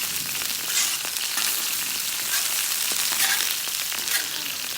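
Burgers sizzle steadily on a Blackstone griddle, a dense, continuous frying hiss heard up close without talk.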